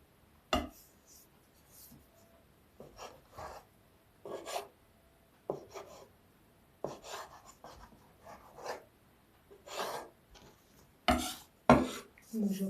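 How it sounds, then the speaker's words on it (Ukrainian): Yeast dough being sliced into diamond shapes with a knife on a board, heard as a series of short, quiet, separate cutting and scraping strokes spaced irregularly with silence between them. "І буду нарізати так, такими ромбиками."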